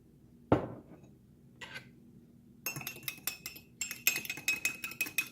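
Egg mixture seasoned with garlic powder and hot sauce being stirred in a bowl: a single loud clink, a pause, then rapid rhythmic metallic tapping and scraping of a utensil against the bowl, close and alone.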